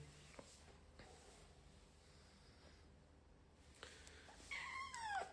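A cat gives a fairly faint, drawn-out meow near the end after a quiet stretch with soft rustling and small knocks; it is heard alone, with no talking.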